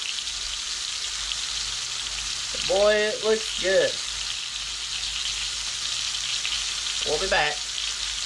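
Southern fried pork loin chops sizzle steadily in a pan, a continuous loud frying hiss throughout, with someone speaking briefly twice over it.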